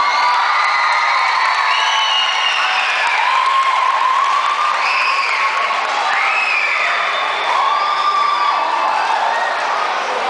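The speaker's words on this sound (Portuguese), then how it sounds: "Vamos receber com muitas palmas Marcel Schinner." A crowd cheers, whoops and applauds a performer at a skating show, loud and continuous, with high shrill shouts and whistles rising repeatedly over dense clapping.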